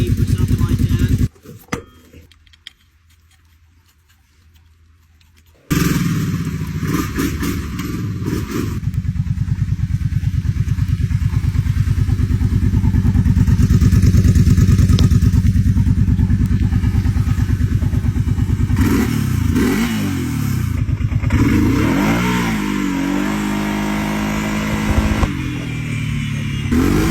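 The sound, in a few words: Kawasaki Brute Force 750 ATV engine running and revving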